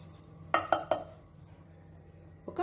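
A spoon stirs a sweetened milk mixture in a pot, giving three quick metallic clinks close together early on and another scrape near the end, over a quiet low hum.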